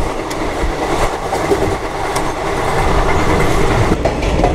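An Indian passenger train runs through a station without stopping, heard from on board as a loud, steady rumble with rhythmic clickety-clack from the wheels.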